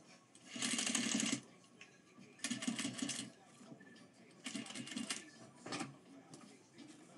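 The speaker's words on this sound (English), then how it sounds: "I'm going to go slow and sew along the whole line." A sewing machine slowly stitching a seam on a five-panel hat with a short stitch length, running in three or four bursts of steady whirring separated by brief pauses, close by and moderately loud.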